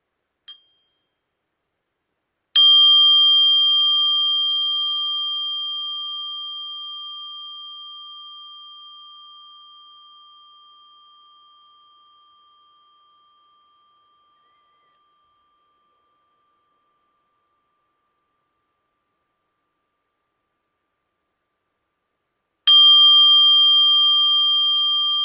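A mindfulness bell is struck twice, about twenty seconds apart; each clear ring sustains with a long, slowly fading resonance in otherwise silent surroundings.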